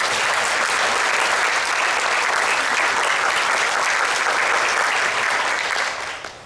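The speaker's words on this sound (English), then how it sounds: "Let's give these folks a round of applause" Sustained, dense audience applause at a Pickens County Teacher of the Year awards ceremony, steady and loud throughout before tapering off at the very end.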